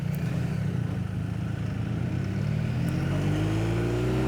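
A motorcycle engine drones steadily and loudly from the rider's position as the bike overtakes two cars, the pitch climbing gradually as it accelerates past them, with constant wind and road rumble underneath.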